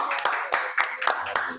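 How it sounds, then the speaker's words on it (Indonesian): An audience claps at a talk show, with about six sharp, separate claps spaced evenly, close and moderately loud, and a voice speaks briefly near the end. "Kita beri tepuk tangan dulu lah"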